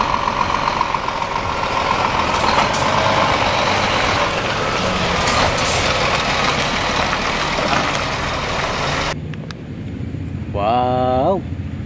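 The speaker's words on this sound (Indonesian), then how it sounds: "ada mobil truk molen lagi teman-teman" A concrete mixer truck's heavy engine drones steadily in the foreground, loud and continuous, before cutting out near the end, where a brief rising-and-falling tonal sound takes over.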